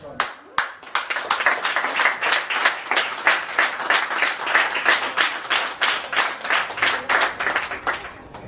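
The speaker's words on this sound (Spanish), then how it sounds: "yo pido un aplauso para ese tipo de personas" Applause from the audience at a public talk on untreated sewage discharges and corruption in the Canary Islands, a dense run of sharp, distinct hand claps with an irregular rhythm that carries on for several seconds before fading.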